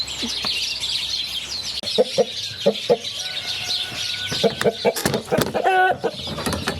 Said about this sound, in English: Little white chickens everywhere.